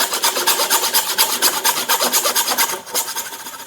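A tenon saw rasps through a wooden workpiece in quick, even back-and-forth strokes, close and loud, with a brief pause near the end and no talking.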